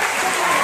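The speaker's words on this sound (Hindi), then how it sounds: "जोरदार ताली" Loud applause from a crowd, a brief dense burst of clapping filling the moment without a pause.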